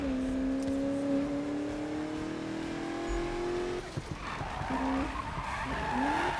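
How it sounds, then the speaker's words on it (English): A car drifting and skidding in the Need for Speed (2015) video game on PC, a sustained engine drone with tire squeal that breaks into a choppier skid and revving bursts near the end, loud and continuous. "I was waiting for it to stop drifting, so I don't know why I hit the handbrake"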